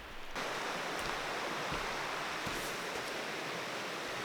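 A wild creek flows in a remote mountain area, making a steady, full broadband rush of running water that goes on without a break and without voices.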